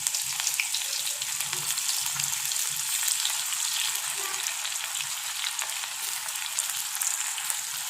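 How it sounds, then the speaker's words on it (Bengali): Bitter gourd chips frying in hot oil, giving a dense, continuous crackling sizzle that stays loud and even for the whole stretch, with no talking. "এবার আমি একটা একটা করে তেলের মধ্যে করলা চিপসগুলো ভাজার জন্য ছেড়ে দেব।"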